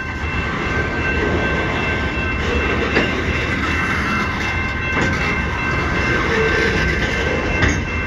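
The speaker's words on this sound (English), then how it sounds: "That's the end of the train." A CN freight train passing close by makes a loud, steady rumble of rolling cars with faint clacks and wheel squeal. No one speaks.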